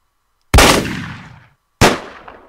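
Two sharp, loud gunshots ring out in the Deadbolt video game, about a second and a half apart, each followed by a reverberant decaying tail. No voices are heard.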